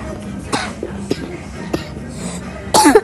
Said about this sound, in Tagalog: Ang tigas ng ubo ko eh.